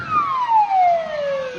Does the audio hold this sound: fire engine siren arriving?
yes